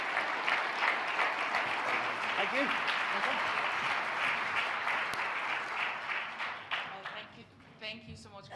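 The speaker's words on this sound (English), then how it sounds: "If you bring a round of applause" Sustained applause from a large conference audience, dense and steady, thinning out and fading toward the end, with a voice briefly speaking over it.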